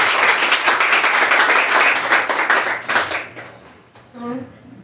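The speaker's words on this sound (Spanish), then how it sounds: "Vamos a despedirlo con un aplauso de agradecimiento" A crowd applauds at a book catalogue presentation with dense clapping for about three seconds, then the clapping thins out and a voice begins speaking.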